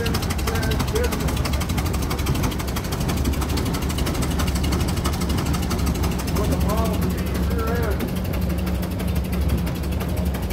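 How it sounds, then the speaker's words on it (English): A cut-down 1928 Ford Model K truck fitted with a 1930 Model A engine and transmission runs steadily, a loud, continuous rapid engine chug with mechanical clatter throughout, while voices talk over it. "This 1928 Ford was cut down with a 1930 Model A engine and transmission."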